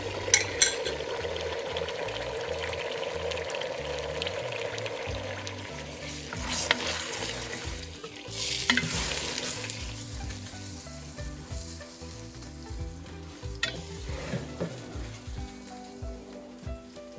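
Egg whites sizzle and fry in a hot pan, a soft steady crackle at first that thins out, with occasional scraping and stirring sounds and quiet music underneath.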